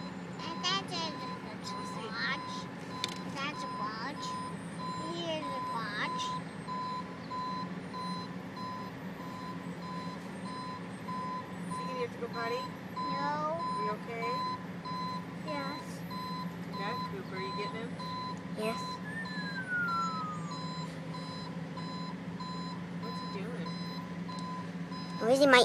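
A garbage truck at a transfer station reverses with steady repeating backup beeps under a low engine rumble, fairly distant, while children and adults talk nearby.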